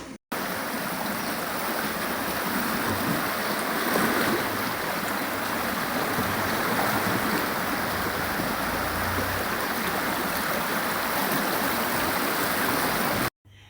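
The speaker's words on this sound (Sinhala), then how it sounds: "දැන් ප්‍රධාන පාරවල් වලින් තමයි මේ වතුර ටික ගලාගෙන යන්නේ" Floodwater pouring along main roads through submerged low-lying neighbourhoods, a loud, steady, broadband rushing that holds continuously and close with no voices.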